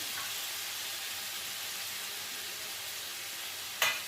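Grated ginger going into a pan of sizzling spices soaked with turmeric, cumin and coriander powder, an even close hiss of frying with one brief sharp spit near the end.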